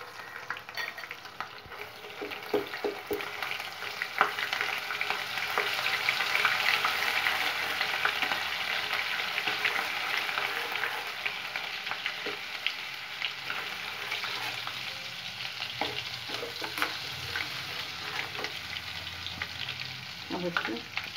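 Half a spoonful of ginger garlic paste fries in hot oil with two pieces of cinnamon stick for chilli paneer, a steady close sizzle with occasional stirring scrapes and no talk throughout.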